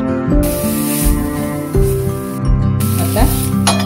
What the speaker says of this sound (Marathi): परत हलवून घ्यायची.